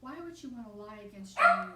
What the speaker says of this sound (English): Y'all gotta excuse my dog. She's excited.